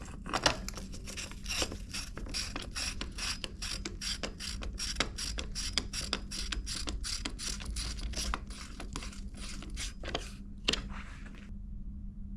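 A mountain bike chain set being slid onto greased crank splines during a BB386 30mm bottom bracket install gives a steady, close run of rapid ratcheting clicks for about eleven seconds, then stops.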